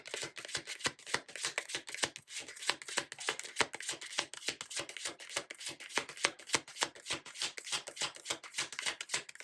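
Tarot cards being shuffled by hand, a fast, even run of crisp riffling snaps repeating close up without a break, with no talking over them.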